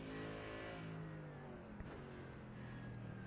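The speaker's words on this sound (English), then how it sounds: "We listened to a handful of cars. We have the Aston Martin, one of my favorite new ones of the GT3 world." Inside a GT3 racing game at the Nürburgring, an Aston Martin GT3 race car's engine drones steadily at high revs, holding a continuous harmonic whine with a brief shift in pitch partway through.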